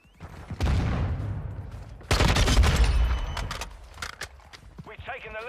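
Automatic rifle gunfire in Modern Warfare 2, with the AK12 among the weapons, firing in loud sustained bursts separated by a brief pause, with game sound effects and a player's voice talking around the shots.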